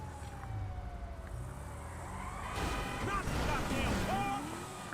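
A police siren wails in a driving video game, rising and falling tones emerging under engine noise and growing louder toward the end, with people talking over it.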